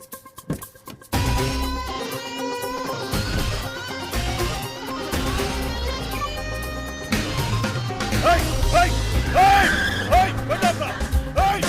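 A car speeds away in a movie scene, its engine revving and tires squealing amid dramatic background music, loud and continuous.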